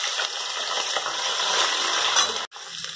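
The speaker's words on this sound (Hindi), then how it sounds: "देखिए अब हम सहजन को इसमें तेल में डाल देते हैं।" Moringa drumstick pods hit hot oil in a pan, setting off a loud, dense, steady sizzle that crackles throughout, then breaks off sharply for a moment before resuming more quietly.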